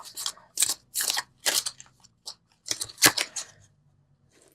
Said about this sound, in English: So let's pull the universal love cards.